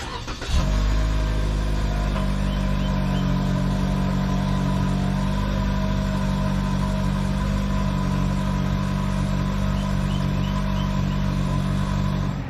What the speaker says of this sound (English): you have a nice twin-tipped exhaust, which doesn't exactly sound bad